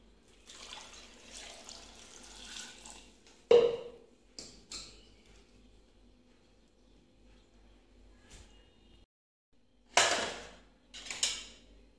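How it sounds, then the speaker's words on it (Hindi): Water poured into a container in a home kitchen, heard as brief splashing bursts separated by quiet gaps, with light knocks of utensils and dishes nearby. "इसमें डाल देंगे पानी।"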